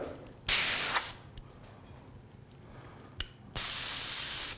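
An airbrush loaded with Createx paint sprays in two loud, close, hissing bursts, the first about half a second long and the second lasting to the end, separated by a faint click and quiet handling.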